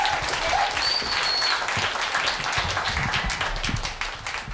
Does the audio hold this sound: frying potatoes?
no